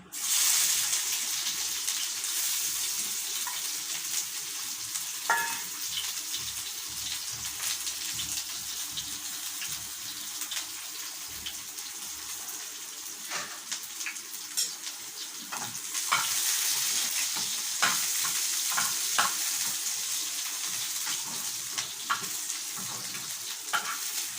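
Onions frying in oil in a pan give a steady, close sizzle for the whole stretch, with frequent scrapes and clacks from stirring scattered through it and no talking.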